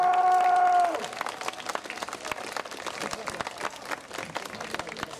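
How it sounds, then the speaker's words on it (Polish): An audience at an outdoor blues concert in Poland breaks into applause just as a sustained tone cuts off. Scattered, moderately loud clapping then continues for several seconds. "Także proszę o wielkie brawa."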